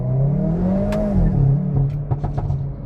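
A 2022 Hyundai i30 N facelift with a 206 kW engine and 8-speed DCT revs loudly from inside the cabin, the engine note climbing and sweeping then settling, followed by sharp pops and crackles.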